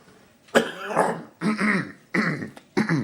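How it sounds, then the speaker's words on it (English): Several harsh throat clearings come in rough bursts, close to the listener, with brief pauses between them. "I'm trying to clear my throat here"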